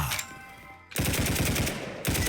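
Rapid automatic gunfire bursts loud and close, a brief pause with a ringing tail, then sustained machine-gun fire in the Roblox shooter game Hypershot.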